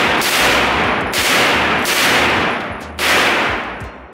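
A gun fires in loud bursts while shooting from a chopper. Three long, harsh bursts of rapid fire come in close succession, each about a second long, with short gaps between them and no talk.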